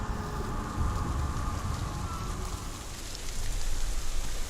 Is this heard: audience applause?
no